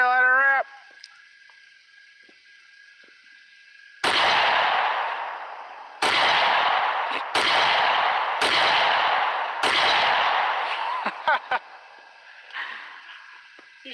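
Five loud, sharp blasts from a Thunder Cap launcher ring out in an irregular sequence, each with a short echoing tail and clatter outdoors. A high whine comes first, and people talk afterward.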